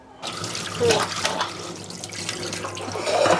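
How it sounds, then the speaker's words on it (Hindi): Boiling water is poured off a pot of briefly boiled food for a Tibetan bhatsa marku recipe, a steady splashing rush into a sink that swells and fades over a few seconds, close by with no talk. "तो अब हम इसको पानी निकाल दें।"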